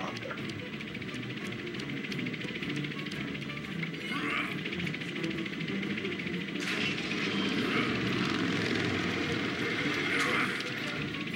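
A loud, continuous helicopter rotor and engine roar from the video game Dead Rising 2 fills the scene, with a few brief bursts of noise layered on top.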